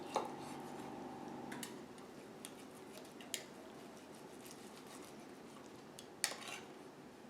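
A knife cuts through food on a board while filet is prepared, a few sharp clicks and taps of the blade spaced seconds apart over a quiet kitchen background.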